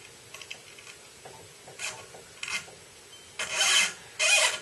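A new Ernie Ball coated guitar string is wound around a metal tuning post, giving scattered short scrapes and ticks that grow into louder, longer rasping bursts near the end.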